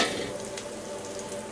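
Whole spices such as masala sizzling as they drop into hot oil in a pan, a brief, steady crackling fry close by with no voices.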